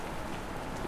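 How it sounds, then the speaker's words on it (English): Steady rain falls on a surface inside the survey video game I'm Not Alone, a soft, constant hiss of drops with no talking. "Let me turn down the audio, because it's all just rain."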